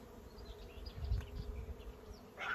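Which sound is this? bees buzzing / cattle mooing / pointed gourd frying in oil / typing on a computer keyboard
bees buzzing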